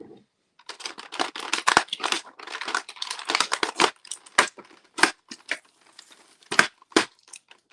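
Tape being snipped and plastic toy packaging crinkled while unboxing a NECA Last Ronin armoured and unarmoured figure set, a dense run of close, sharp crackles and snips that thins into separate crisp clicks and crinkles near the end.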